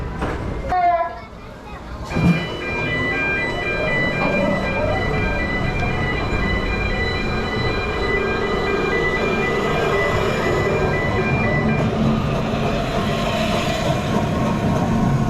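A Vekoma suspended roller coaster at Wild Adventures in Georgia runs with a loud continuous rumble and rattle, overlaid by steady mechanical whines, after a few brief opening sounds; close and dominant, with voices heard amid the ride noise.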